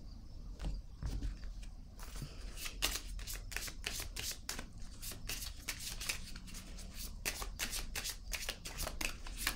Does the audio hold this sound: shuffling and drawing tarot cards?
yes